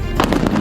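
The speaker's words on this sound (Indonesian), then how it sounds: "Rekaman insiden memperlihatkan ledakan besar di area perairan dekat pelabuhan" A malfunctioning sea drone explodes in the water near a Black Sea port: a loud, dense, crackling blast fills the whole brief moment, heavy and close, with no voices over it.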